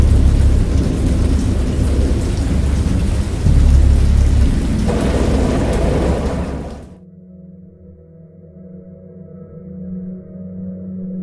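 Thunderstorm with heavy rain in the video game Dagon, based on H. P. Lovecraft, a loud rolling rumble and dense rainfall that cut off abruptly, leaving a faint low hum.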